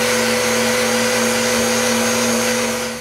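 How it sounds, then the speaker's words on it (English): An electric sander whirs steadily on a wooden wall support for a plaque, one continuous loud, close motor drone with a steady hum that fades slightly at the end. "Then I sand the parts that I can access with a sander."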